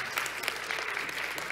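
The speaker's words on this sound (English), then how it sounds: "Let's give a clap offering to the Lord." Church congregation giving a clap offering, a steady dense wash of applause from many hands without pause, moderately loud and even throughout.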